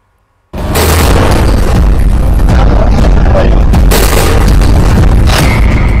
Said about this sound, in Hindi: पेजर में धमाके से कैसे लेबनान दहल गया